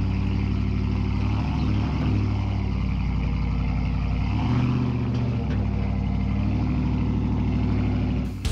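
A steady car engine rumbles continuously at close range, with a low droning hum and a couple of brief shifts in pitch, and no voices.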